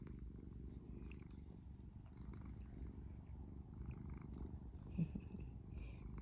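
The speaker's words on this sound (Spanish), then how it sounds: "es mi gato grande, es mi bebé grandote" A big, affectionate house cat purrs softly and continuously at close range, a low steady rumble with a faint bump near the end and no talking.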